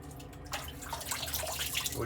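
Water runs steadily from a tap while a face is wetted before a shave, a continuous moderate splashing flow that starts after a brief quieter moment and carries on to the end.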